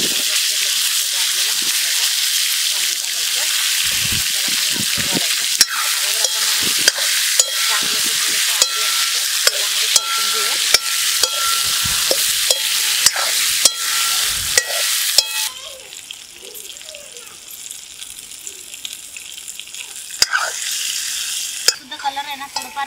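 Eggplant and turmeric frying in hot oil while a spoon scrapes and stirs, making a loud, continuous sizzle broken by repeated clicks and scrapes. The sizzle softens near the end, and someone talks throughout.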